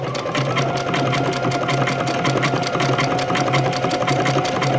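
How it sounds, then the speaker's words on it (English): A sewing machine with a wing needle runs an entre-deux stitch, a fast steady mechanical whir and needle clatter, close and continuous without pause. "I think they call this an entre-deux stitch, but don't hold me to that. And I'm going to go ahead and stitch this."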